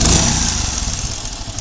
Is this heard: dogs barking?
no